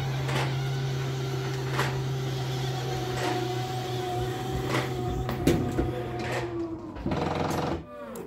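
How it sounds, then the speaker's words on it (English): An RV slide-out room motor runs steadily with a low, constant electric hum and whine for about seven seconds, punctuated by periodic clicks and knocks, then shifts pitch and cuts off near the end as the room stops moving. "Now I just have to go inside, run the slide out room in a few times, and then put the set screws in."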